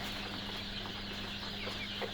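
Soft clucking from a large hen of over a kilogram in a noisy yard, a few short calls over a steady hum with no voices.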